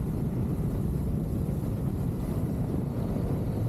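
Blustery wind roars past an open-visor motorcycle helmet at around 30 mph, a dense, steady low rumble of buffeting close to the microphone, continuous and without any talking.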